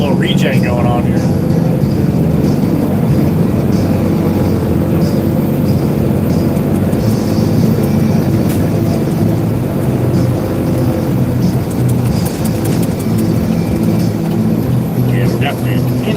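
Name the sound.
diesel truck engine in exhaust regeneration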